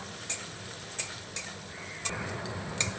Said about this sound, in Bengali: তো আমি একটু নাড়িয়ে নেব একেবারে কড়া করে ভাজবো না হালকা একটু নাড়িয়ে ভেজে নেব